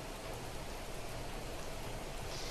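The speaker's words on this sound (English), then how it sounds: "Rain is really coming down." Steady, dense rain pours in the survival game Planet Crafter, a continuous hiss of heavy downpour filling the whole stretch with no gaps and no voices.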